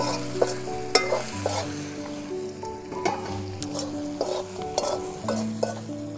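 Semi-dry pork with turmeric frying in a pan, a steady sizzle with spoon stirring and occasional clinks against the pan, close and unaccompanied by talk.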